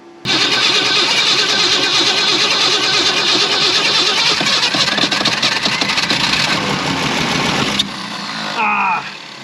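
A long-abandoned Ford Falcon with a once-stuck engine cranks and catches, running loud and steady for several seconds before the throttle drops off and a voice briefly speaks near the end.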